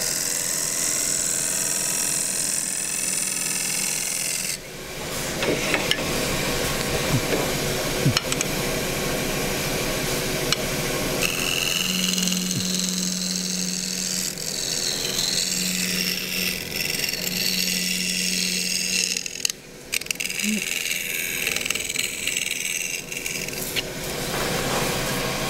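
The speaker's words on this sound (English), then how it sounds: "use a skewed scraper to make this curve than a square end one" A skew scraper shaves a small green wood bowl spinning on a lathe, giving a steady close rasping, rubbing scrape that runs almost continuously, with short pauses and shifts in tone as the tool is eased across the curve.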